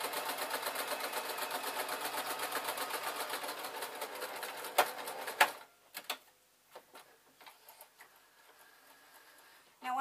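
A sewing machine stitches along the hem seam of a summer wrap dress with a fast, steady mechanical chatter for about five seconds, then stops, leaving faint handling clicks.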